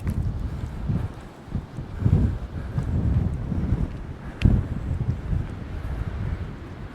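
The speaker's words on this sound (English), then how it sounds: "it's far too windy" Strong wind on the Orkney coast buffets the microphone in a continuous low roar, with gusts swelling and dropping and one sharp thump midway.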